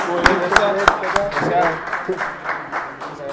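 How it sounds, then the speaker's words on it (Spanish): A live audience claps to welcome a guest from Cerveza Fabre at a brewpub event, with sharp, irregular hand claps spread across a few seconds and a busy crowd murmur and voices underneath. "fuerte el aplauso"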